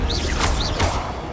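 A Confringo spell cast in the video game Hogwarts Legacy, a brief burst of whooshing magical swishes and crackling impact sounds, loud and dense with no talk.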